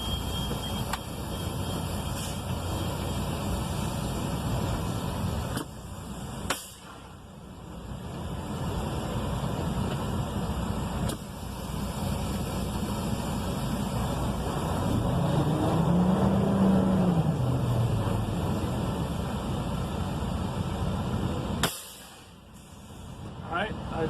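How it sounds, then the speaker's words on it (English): A tractor-trailer truck idles and strains through an air brake tug test and service brake test, steady engine rumble with sharp hisses of air brakes releasing, while the driver talks over it. "I'm going to perform a tug test followed by a service brakes test."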